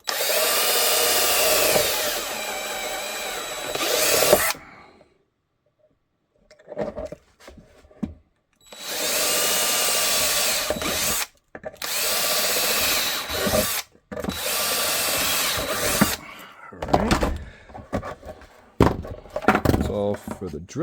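A power drill with a drill guide bores holes in a handgun holster in several long, loud whirring runs separated by pauses, with short clicks and handling noises and a voice speaking between bursts.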